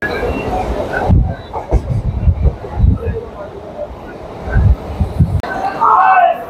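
A Sealdah to Howrah local train rolls on after leaving Bali station, its wheels rumbling and thudding in uneven bursts under wind buffeting the microphone, with voices in the carriage.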